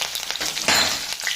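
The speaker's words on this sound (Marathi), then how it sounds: "तेल तापलेलं आहे आपलं। राई जिरं घालतो त्याच्यामध्ये। 2 डहाळ्या कढीपत्ता," Mustard seeds, cumin and curry leaves sizzle and crackle in hot oil in a pan, a steady bright frying hiss with a louder burst partway through, alone without talk.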